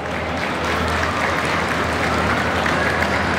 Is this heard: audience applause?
yes